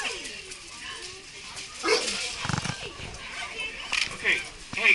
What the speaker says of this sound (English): I did mention that the dogs are kind of jacked up